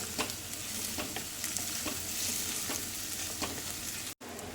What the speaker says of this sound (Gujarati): હવે એને આપણે બ્રાઉન કલર થાય ત્યાં સુધી શેકી લઈએ